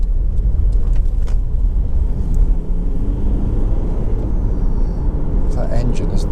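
A 2012 Honda CR-V 2.2 i-DTEC diesel SE 4WD hums and rumbles steadily while driving on a road, a low continuous engine and tyre drone heard from inside the cabin, with someone talking over it.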